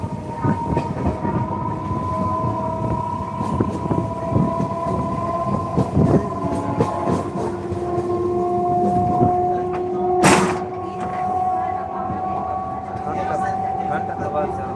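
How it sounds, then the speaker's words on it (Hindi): Local passenger train from Sitamarhi to Bajpatti picking up speed: a continuous loud rumble and clatter of wheels, with long steady whistle tones and a sharp burst partway through, and a voice speaking over it. "अब गाड़ी का रफ्तार हौली हौली तेजी हो रहा है।"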